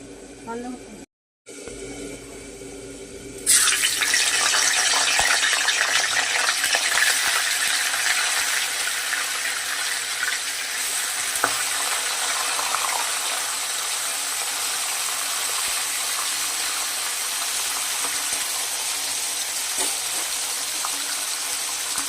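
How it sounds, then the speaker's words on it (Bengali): Fish pieces for a Bengali fish-head curry frying in hot oil, a loud steady crackling sizzle that starts abruptly after a quiet moment and continues evenly, with faint splashes and clinks. "মাছটা আমি ভেজে নেবো।"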